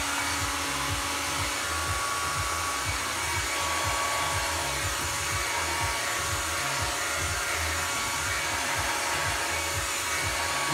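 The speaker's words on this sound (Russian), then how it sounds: "Нагреваем фен на максималочку." A heat gun running at maximum while shaping window tint film on a new Skoda, giving a steady, loud blowing whoosh with a low motor drone that continues unbroken throughout.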